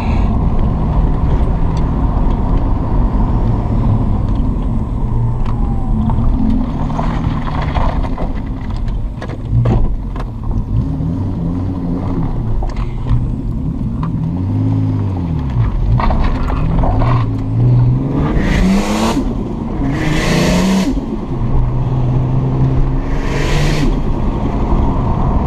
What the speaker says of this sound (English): Let's turn on this car a little bit.